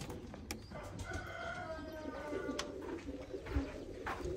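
Pigeons coo and murmur inside a breeding loft, several birds overlapping at close range, with a rooster crowing faintly somewhere in the background.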